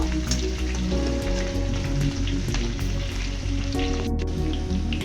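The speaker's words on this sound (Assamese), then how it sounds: "অকণমান আদা নহৰু জলকীয়া অকণমান ফ্ৰাই কৰি ল'ব" Ginger, garlic and chili sizzle steadily in hot oil in a pan, a continuous crackling fry with a low hum beneath and no talking.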